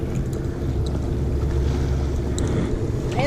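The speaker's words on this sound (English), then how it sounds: "It's pretty windy out here again today." Wind blowing over the Mississippi River while fishing from a boat: steady low rumble of wind buffeting the microphone with faint water sounds, continuous and close, with no speech.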